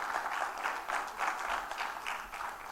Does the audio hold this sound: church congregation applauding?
yes